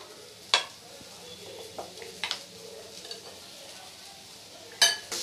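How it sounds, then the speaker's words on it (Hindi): A spoon stirs a yogurt-based white chicken gravy in a pan, soft scraping and low sizzle punctuated by a few sharp utensil clinks against the metal, fairly quiet and close. "अच्छे से मिक्स कर लेंगे ये ग्रेवी को दही की"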